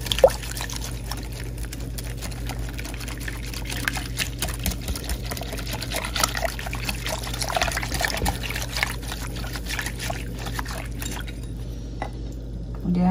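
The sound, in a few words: stirring egg and tapioca flour batter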